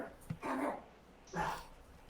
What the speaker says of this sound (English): I told you she was gonna be a tough dog.